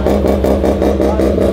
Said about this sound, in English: Viper coming through. You gotta listen to this thing.